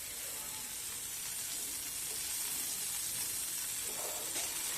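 Oil sizzling on a hot pan while making methi dosa, a steady broadband hiss that holds evenly throughout and swells slightly near the end, with no talking.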